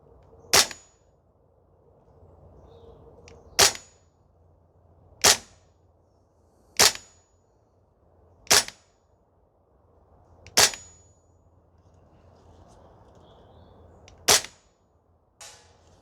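Semi-automatic shots from an APFG Sig Spear LT 11.5 airsoft gas blowback rifle on an outdoor range, seven sharp cracking reports spaced a second or two apart, loud and close with quiet gaps between.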